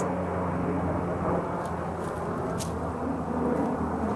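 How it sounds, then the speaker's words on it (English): A steady, broad roar of a plane passing high overhead, fairly constant throughout, with faint clicks and rustles nearby. "I am hearing a steady stream of airplanes going overhead."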